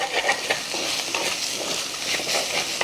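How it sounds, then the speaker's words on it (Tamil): Scrambled egg frying in a pan with agathi flowers sizzles continuously while being stirred, the spatula scraping in loose repeated strokes, close and fairly loud with no talking. "இப்படி நல்லா கிளறிக்கோங்க"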